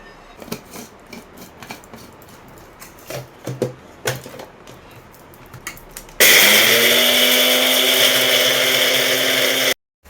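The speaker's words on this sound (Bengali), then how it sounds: "এরপরে এটাকে গ্রাইন্ড করে একটা জারের মধ্যে ভরে দেবো" Cooled roasted spice mix is handled with a few clinks and taps, then an electric grinder starts abruptly and runs loudly with a steady whirring roar for about four seconds before cutting off.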